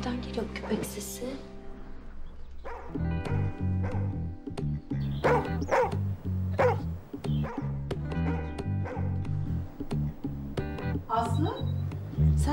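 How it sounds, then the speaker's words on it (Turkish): A dog barks and yips repeatedly in an indoor domestic scene, the barks mixed in with people talking and close, fairly loud throughout. "Nereden geliyor köpek sesi?"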